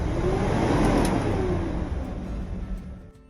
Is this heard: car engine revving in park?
yes